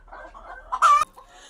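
Local free-range chickens clucking, a few soft close clucks building to one louder, drawn-out squawk before trailing off, with no talk.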